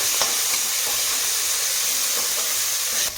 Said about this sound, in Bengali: জিরে দেবো তেলের মধ্যে আর কাঁচা লঙ্কা পেঁয়াজ কুচিটা দিলাম